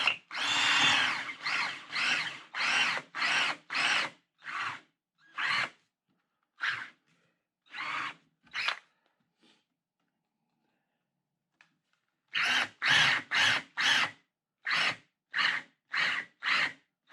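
A power drill bores plug holes into a wooden board for a simple ladder shelf, in repeated short whirring bursts with brief pauses, then a longer silent gap before another quick run of bursts, close and loud.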